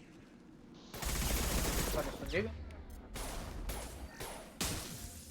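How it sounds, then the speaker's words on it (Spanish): Rocket turrets fire in a Mass Effect 2 co-op firefight, sharp bursts and whooshing launches hitting in a loud rapid cluster before spaced blasts follow, with voices talking over the action. "Este está lanzando cohetes. Hombre, es que son torretas cohetes."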